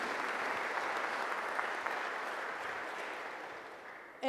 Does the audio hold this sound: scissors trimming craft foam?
no